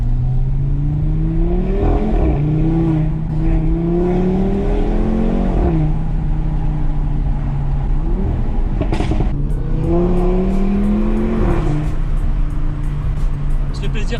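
An Audi RS3 accelerating hard along a short straight from inside the cabin, its engine note rising in repeated pulls with gear shifts between them, loud and steady throughout with faint talk underneath.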